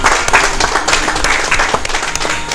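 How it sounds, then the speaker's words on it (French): A television studio audience claps to welcome guests: loud, close, dense applause with sharp individual claps, sustained throughout with no talk. "on va vous demander de vous applaudir pour vous souhaiter la bienvenue"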